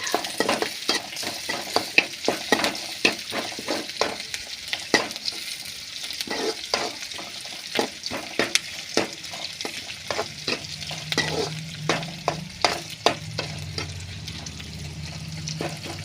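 Onions and chana dal frying in oil for rava upma, with a constant sizzle and a long run of sharp spatula scrapes and taps against the pan, close and fairly loud.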